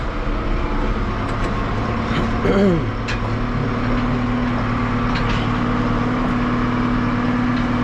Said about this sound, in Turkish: Traktörümüz zaten çalışıyordu.